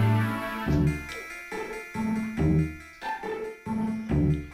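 Toad croaking in the Final Fantasy III game on DS, a repeating rhythmic series of synthetic, tonal ribbit-like chirps, about six evenly spaced pulses, clear and prominent with no speech.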